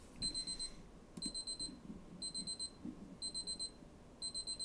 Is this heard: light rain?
no